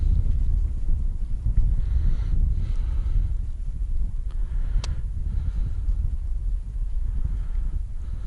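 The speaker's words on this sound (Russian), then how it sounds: "Блин, ветер, ребята, жесть." Heavy wind buffets the microphone in a continuous low roar on a frozen lake during ice fishing, rumbling and gusting steadily with no voices.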